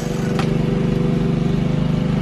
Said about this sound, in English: My men are taking care of the lawn mowing.